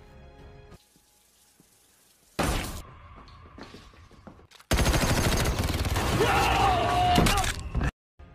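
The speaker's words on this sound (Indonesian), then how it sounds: "Kemudian dengan senjata yang sudah disiapkan, Paul langsung memberondong pelaku hingga tewas." Gunfire from a shootout in the film Death Wish comes as a dense, loud burst of rapid shots over the second half, after quieter thuds and a shorter noisy burst earlier, then cuts off abruptly.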